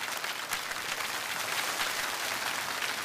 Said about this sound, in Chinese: 掌声有请开讲嘉宾